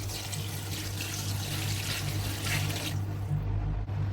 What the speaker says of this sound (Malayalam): 1/2 ഗ്ലാസ് വെള്ളം എടുത്തിട്ടുണ്ട്. നമുക്ക് ചേർത്ത് കൊടുക്കാം.